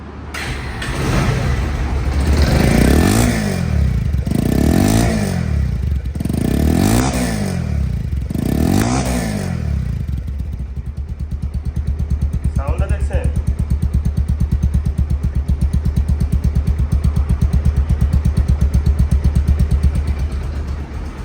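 A 2025 ABS motorcycle engine in showroom condition revs up several times in loud rhythmic bursts, then settles into a steady, close idle with a brief voice partway through.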